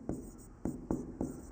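Writing out a point during a Hindi-language biology lesson on heredity and variation, with four brisk, evenly spaced scratchy strokes, close and fairly quiet.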